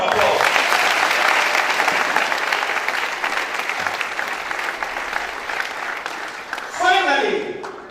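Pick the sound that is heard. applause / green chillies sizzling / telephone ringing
applause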